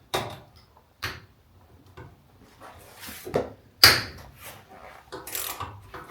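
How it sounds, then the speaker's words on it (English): Sharp metallic ratchet clicks and cracks as spanners turn half-inch nuts on a car door of a Holden HG, coming in scattered close bursts with quiet gaps between. "I've got ratchet spanners."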